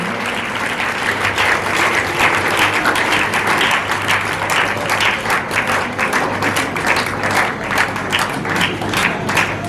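Loud, sustained audience applause welcoming a performer onto the stage at a Teachers' Day tribute event, a dense crowd clapping steadily with sharp individual claps standing out, close and continuous throughout.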